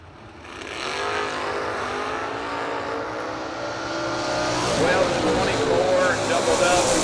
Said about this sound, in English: Parsons in the rear windowless Camaro